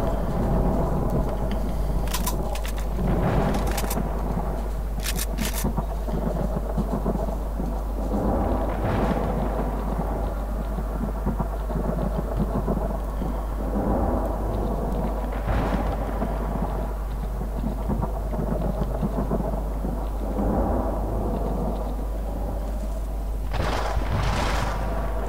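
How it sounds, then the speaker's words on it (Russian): Heavy thunder rolls and rumbles continuously through a rainstorm in the video game S.T.A.L.K.E.R. Clear Sky, loud and sustained with periodic sharper cracks over a steady rain bed. "Какой же, блин, громкий этот гром."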